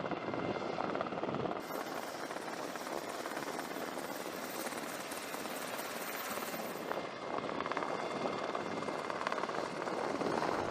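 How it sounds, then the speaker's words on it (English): A helicopter's rotors whir loudly and steadily from start to finish, a dense continuous roar with the chopper close by, heard just before a parachute jump. "It can be disorienting to jump so close to the chopper's whirring rotors."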